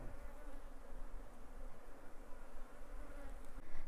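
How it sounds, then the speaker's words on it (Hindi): Honeybees swarm around opened hive boxes during honey extraction, a continuous buzzing hum of many insects close by, steady with slight swells in loudness and no talking. "मधुमक्खियां ये देखो खाने के लिए आ रही है"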